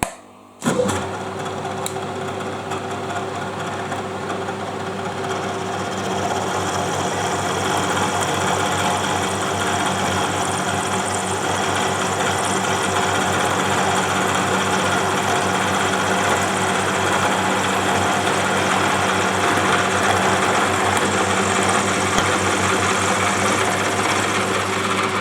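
Machine milling a slot 1 mm at a time into a 2-part vise/edge clamp part, a loud steady mechanical hum and whine with a constant tone starting after a brief click, running alone throughout.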